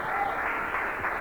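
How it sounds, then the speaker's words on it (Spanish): A church congregation claps in sustained, dense applause, a steady close wash of many hands with no gaps over the short span. "Démosle un aplauso de victoria al Señor."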